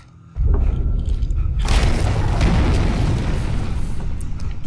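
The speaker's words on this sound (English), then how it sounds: "Flashbang right in the center of the room." A flashbang grenade goes off in the video game Alan Wake: a quiet lead-in, then a sudden heavy boom that swells into a loud, sustained roaring burst with deep low rumble, filling the rest of the moment.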